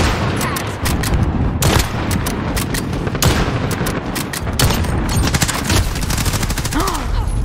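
Loud, dense gunfire in the video game Modern Warfare, with repeated rapid bursts and single shots packed close together throughout, and a voice speaking briefly among the shots.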